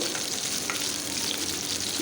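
Onion pieces fry in oil with mustard and cumin seeds for a stuffed eggplant curry in coconut milk, a continuous close hiss and sizzle with no talking.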